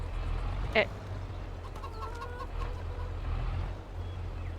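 Chickens cluck softly on a farm in Farming Simulator 22, a short run of faint clucks over a steady low rumble, with a sharp click just before.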